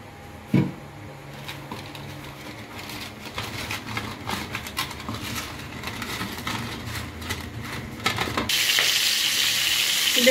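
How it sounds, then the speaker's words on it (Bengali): Pointed gourds salted and coated in turmeric fry in oil in a wok over low heat, a steady close sizzle with a clunk near the start and intermittent stirring clatter, growing louder toward the end. "দেখতেই পাচ্ছেন আমি পটলগুলো ছেড়ে দিয়েছি, হালকা আগে একটু ভালো করে ভেজে নেবো পটলগুলো"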